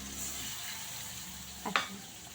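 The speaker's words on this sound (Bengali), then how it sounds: "তেলের মধ্যে আমি মশলাটা দিয়ে দেবো।" Spice paste of yoghurt and green chilli frying in oil for a fish teljhal: a soft, even sizzle with a brief clatter near the end, quiet and close.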